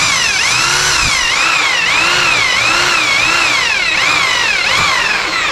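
Drilling a hole in iron without a drill bit, a loud, steady high-pitched power tool whine that rises and falls in a wavering cycle roughly every second, heard close and continuous.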